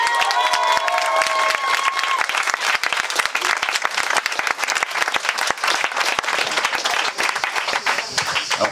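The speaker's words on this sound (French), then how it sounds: "s'il vous plaît, un tonnerre d'applaudissements pour les deux personnes les plus importantes de cette soirée" Wedding guests at an evening reception burst into loud, dense applause mixed with cheering and crowd voices, a continuous roar of many hands with a brief whistle or tone near the start, lasting throughout.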